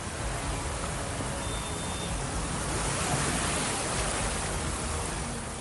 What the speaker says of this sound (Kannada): ಪೇಟೆಯಲ್ಲಿ ಮಳೆ ನೀರು ಹೊಳೆಯಂತೆ ಹರಿದು ಹೋಗ್ತಿದೆ